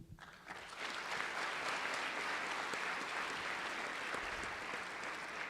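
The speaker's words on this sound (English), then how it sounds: "we have to give them a round of applause there" An audience applauds wrestling champions in a state House legislative chamber, the clapping swelling in after a brief quiet start and holding steady and even across the room.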